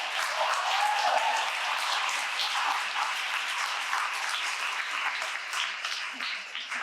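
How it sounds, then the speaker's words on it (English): Audience at a personal finance talk gives sustained applause, a steady moderate patter of many hands clapping that continues for several seconds and slowly thins, no talking over it. "can we just give her a round of applause for sharing such personal details?"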